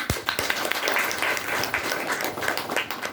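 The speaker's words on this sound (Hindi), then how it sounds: "बजाओ ताली।" Audience clapping at a Kabir temple gathering during a large community feast in the Himalayan foothills, a dense burst of many hands sounding close and steady for a few seconds with no talk over it.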